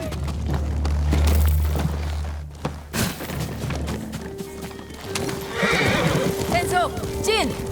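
Horses whinny and neigh repeatedly amid hoof clatter, thuds and battle commotion during a village attack in the samurai video game Ghost of Tsushima, with voices shouting over the scene.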